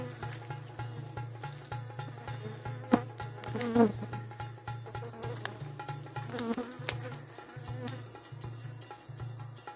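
Honeybees buzzing at a hive, a low steady hum with individual bees droning past close by now and then, fairly quiet and with no speech.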